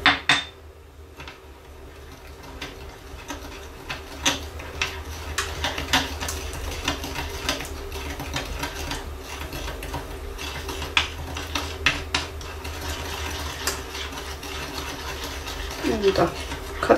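Homemade vitamin C serum being stirred with water in a small container, a run of light clinking and tapping strokes against the sides, close and soft, with a faint steady background hum.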